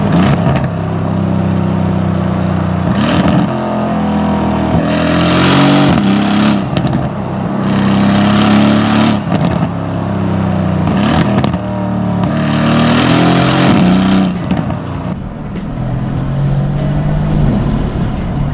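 A Mercedes C63 AMG V8 revs hard and loud, with several rising and falling throttle surges over a steady, deep engine rumble and no talking.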